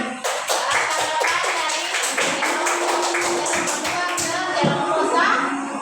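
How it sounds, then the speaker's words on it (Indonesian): A class of teacher-training students in an Indonesian classroom claps together in a dense patter of hand claps that runs steadily throughout, with a voice speaking faintly underneath. "Tepuk tangan."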